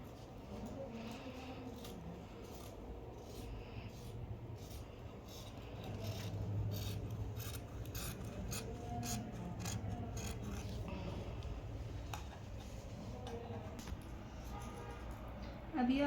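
Scissors snip and rasp through fabric being cut for a suit, a quiet, irregular series of close crunching cuts with soft rustling between them, continuing steadily for the whole stretch.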